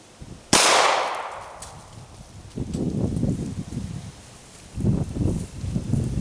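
A single loud, sharp 9mm +P handgun shot goes off close by and rings out briefly, followed by soft outdoor rustling and faint movement.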